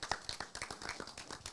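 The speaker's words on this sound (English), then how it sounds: "Let's give her a big round of applause." Brief, close applause from a small audience at a boxing tournament weigh-in, a quick patter of individual claps lasting under two seconds without speech.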